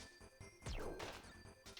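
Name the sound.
ice shattering sound effect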